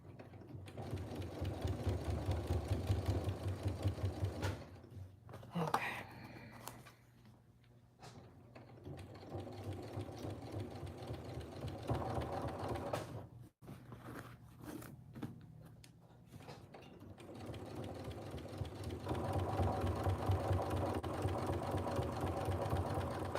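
A sewing machine stitches a denim corset in long running bursts of rapid needle chatter, slowing and pausing briefly between seams, close and fairly loud.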